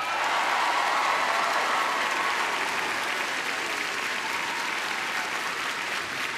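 A TV studio audience at the Norwegian Melodi Grand Prix 2012 semifinal gives sustained, dense applause for the songwriters, an even wash of many hands clapping that holds steady for over six seconds.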